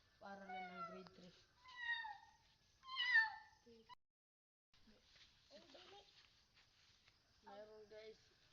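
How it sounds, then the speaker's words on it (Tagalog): A black cat meows several times in short rising calls, close and fairly loud, with brief pauses between them, at a spooky school. "Meron guys ding nagpapakita itong pusa na kulay itim."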